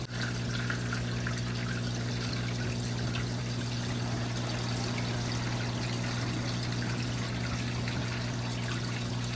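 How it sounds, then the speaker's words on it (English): Water siphoned from a bucket trickles and pours steadily into an aquarium tank over a bowl, a constant close splashing over a steady low electrical hum. "even though that water is pouring over the bowl there"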